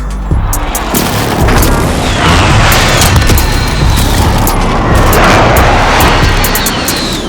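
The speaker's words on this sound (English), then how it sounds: "Marking target for airstrike." Airstrike explosions in Call of Duty Warzone on Rebirth Island: loud, continuous rumbling booms rolling through the whole stretch with aircraft roar overhead, dense and close, no talk.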